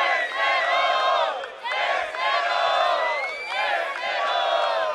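A crowd at a Brazilian rap battle cheering and shouting loudly in sustained waves, close and dense, with brief dips between bursts of whoops and yells.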